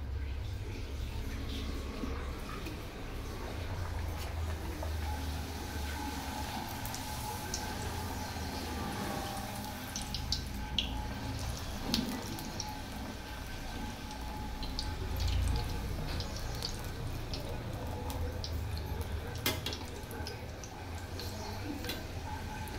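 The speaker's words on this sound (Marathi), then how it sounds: "मी आता तळून घेते" Spinach puri deep-frying in hot oil, a steady, dense crackle and sizzle with scattered pops and ticks, continuous and fairly loud throughout.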